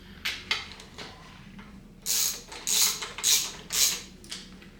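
A bolt snugged down with a ratchet on an engine stand holding a rebuilt 371 Oldsmobile engine, giving a few faint clicking passes early, then four louder rhythmic ratcheting strokes close by.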